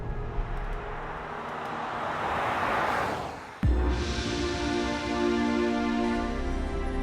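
A Jaguar F-Pace V6 on the road in Montenegro, its engine note rising under steady driving noise, then a sudden shift into a louder, fuller drone of engine and road roar.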